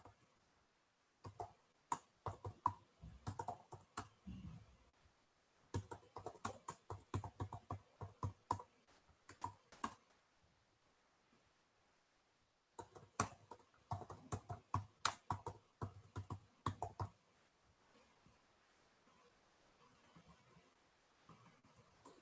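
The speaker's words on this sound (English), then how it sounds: "Thanks for typing." Typing on a computer keyboard during an online technical meeting: quick bursts of close, crisp key clicks in irregular runs, separated by short pauses and a longer lull near the end, with no talking.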